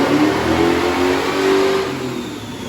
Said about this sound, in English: So we have a 462 big block, and this thing makes some good power.